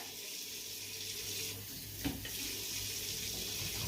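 Steady rush of hot water pouring from a bath tap into the tub, constant and close, with a small knock partway through.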